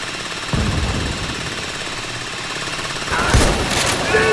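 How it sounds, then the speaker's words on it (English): A mechanical drill bores into a heavy vault door during a loud PAYDAY 3 heist, grinding steadily under dense gunfire and chaotic combat noise that grows louder near the end. "Get a drill going. Get a drill on it."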